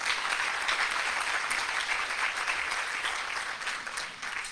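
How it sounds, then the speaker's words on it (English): At a guide dog class graduation ceremony, a crowd gives a round of applause for the breeder keepers; bright, crisp clapping from many people, steady throughout and easing slightly near the close. "Big round of applause for those breeder keepers."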